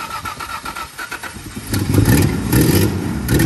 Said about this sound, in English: she's got a mean exhaust leak too